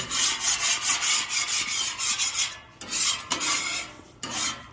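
A metal scraper rasps across a wet griddle to clean it, giving repeated close, loud, rhythmic scrapes with brief pauses between the strokes, and no one talks.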